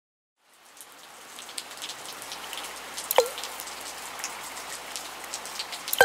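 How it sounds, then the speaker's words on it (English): Steady rain begins after a brief silence and settles into a dense, even patter of drops on a surface, with a few louder drips standing out. "Rain, rain, go away."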